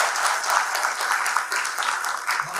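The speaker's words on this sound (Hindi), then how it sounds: "सो हमारे पैनलिस्ट के लिए भी एक बार जोरदार तालियां हो।" An audience at a direct selling leadership conference in Mumbai applauds the panelists, a dense, loud and sustained burst of clapping throughout.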